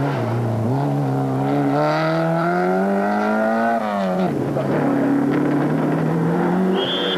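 A Citroën rally car's engine drones loudly as it passes close by, rising steadily in pitch as it accelerates, then drops and picks up again with no talking.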